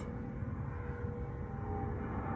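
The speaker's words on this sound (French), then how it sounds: "il y a des avions qui passent" Airplanes passing overhead near an airport, a steady low droning rumble that fills the whole stretch with no clear start or end, fairly distant and unbroken.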